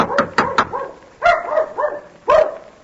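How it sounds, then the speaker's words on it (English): Dog barks and yelps in an old-time radio drama: a quick burst of three sharp barks, then a pause and a few drawn-out, whining yaps, close and loud. "Oh, that sounds like Mickey barking."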